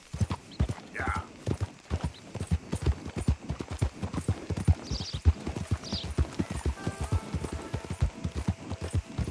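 Horse hooves clip-clopping steadily in a video game, a rhythmic, close trotting beat throughout, with brief faint snorts and a voice speaking now and then.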